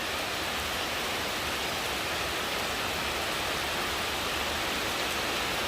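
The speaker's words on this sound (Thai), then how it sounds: "ตอนฝนตกนะครับ" Rain pours down steadily outdoors where a baby elephant plays, a dense, even hiss with no breaks, constant and fairly loud throughout.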